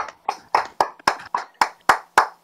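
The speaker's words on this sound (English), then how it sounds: "So let's clap for them, please." Applause for conference organizers at a panel session comes as a short run of about nine evenly spaced, sharp claps, close and clear against near silence.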